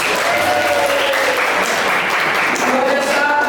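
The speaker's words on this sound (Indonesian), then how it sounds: "ya tepuk tangan untuk Anda semua" A classroom of students claps for a student group that made an anti-bullying poster, steady dense applause filling the room at close range with little talk.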